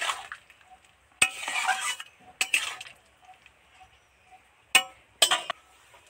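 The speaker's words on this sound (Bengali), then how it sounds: "এবার একটু নেড়ে চেড়ে 2 মিনিটের মতো ঢাকা দিয়ে দেব।" A spoon stirring fish roe curry in a pan, with a few sharp metallic clinks and short scraping bursts separated by quiet sizzling, close and clear.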